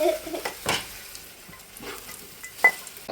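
Cashews being stirred while frying in ghee in a pan give a soft, quiet sizzle broken by a few scraping strokes of a spoon against the metal.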